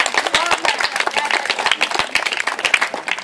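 Children at a summer camp morning exercise clap in quick, uneven bursts close by, a steady patter of small hands with voices mixed in.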